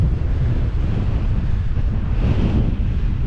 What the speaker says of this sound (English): Look at that for a waterfall.